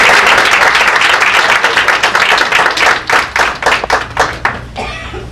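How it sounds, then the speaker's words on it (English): Lively audience applause for a female government official, loud and close at first, then thinning into scattered individual claps that trail off over about five seconds. "Rachel, give her a round of applause."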